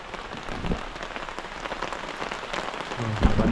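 Heavy rain pours at night on a campsite, a dense drumming patter on nearby surfaces with individual drops standing out and a few louder thumps near the end.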